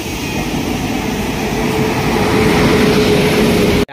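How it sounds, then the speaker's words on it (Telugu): A train rolls in to platform 3 at Anakapalli railway station, a loud, continuous rumble and roar close by with a faint steady whine, ending in an abrupt cutoff. "అదిగండి ప్లాట్ఫామ్ 3 దగ్గరికి అయితే వచ్చేస్తుంది ట్రైన్"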